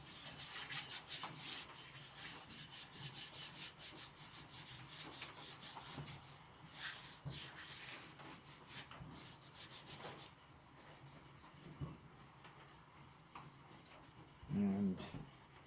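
Scrubber rubbed back and forth over a wood cook stove, steady rhythmic rasping strokes close up that pause and resume, with someone talking in between.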